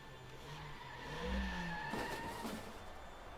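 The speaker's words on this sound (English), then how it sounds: "now I can use the truck to pull the posts out" A truck engine in the video game Rainswept revs and strains while pulling posts out, swelling to a louder peak midway, then holding a rough, steady drone, heard up close with no talking.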